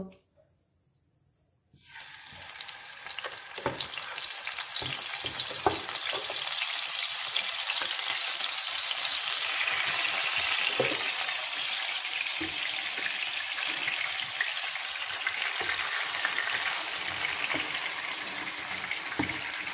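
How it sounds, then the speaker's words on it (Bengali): Chicken pieces drop into hot white oil after a moment of silence, setting off a sudden loud, sustained sizzle that roars on evenly, with scattered pops and crackles as the pieces fry and are stirred. "চিকেনগুলো একটুখানি ফ্রাই করার মতো নেড়ে চেড়ে নেবো।"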